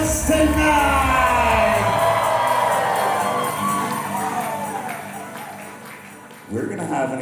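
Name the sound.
wedding guests cheering and making noise for the newlyweds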